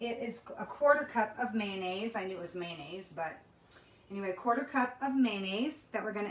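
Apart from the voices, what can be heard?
No distinct noise like a dog, phone or traffic.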